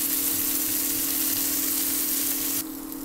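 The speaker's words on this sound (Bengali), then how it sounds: "টমেটোটা যোগ করে আমি এখানে কিছুক্ষণ নাড়িয়ে নিয়েছি।" Tomato cooks with onions in a pan while being stirred, giving a steady close sizzle that cuts to a quieter hiss near the end.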